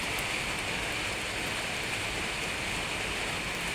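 Steady rain falls continuously, a dense, even hiss of drops on surfaces with no pauses or voices.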